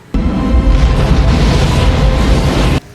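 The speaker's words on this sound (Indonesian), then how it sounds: "Stanley dan Mason berhasil lolos dari ledakan." A loud, sustained explosion from the 1996 action film The Rock roars across nearly three seconds, with a dense rumbling body that cuts off abruptly.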